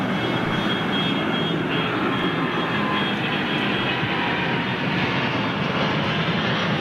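Airbus A380 jet engines roar in a steady, continuous drone with a broad rumbling wash and a faint high whine, sounding fairly distant and unbroken throughout.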